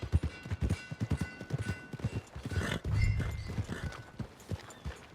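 Horse hooves clip-clop at a steady walking rhythm on a path near stables in Red Dead Redemption 2, close and clear, with a couple of snorts or whinnies mixed in.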